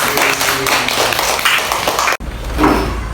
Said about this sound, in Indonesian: Tepuk tangan untuk Kahfi